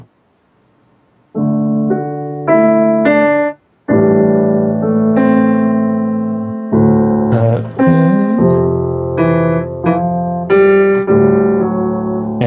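Violas play a melody from the Star Citizen theme in sustained bowed phrases, one after another, clear and prominent, with short gaps between phrases.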